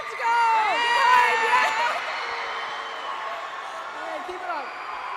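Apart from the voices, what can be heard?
audience cheering at an esports tournament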